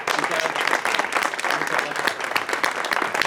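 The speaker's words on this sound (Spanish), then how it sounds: "vamos a darle un fuerte aplauso" An audience at a historical novel event in Viguera gives a strong round of applause, dense overlapping clapping from many people that stays loud and steady, with faint voices mixed underneath.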